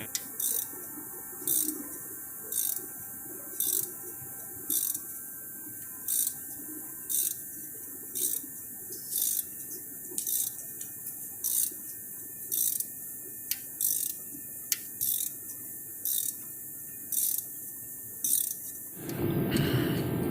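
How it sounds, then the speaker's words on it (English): A ratchet works a harmonic balancer puller on an LT1 V8 in a square-body truck, giving crisp, evenly spaced clicks about every second in a steady rhythm, close and moderately loud, ending in a burst of broader noise. "got the harmonic balancer puller on, getting ready to try to pull this harmonic balancer off"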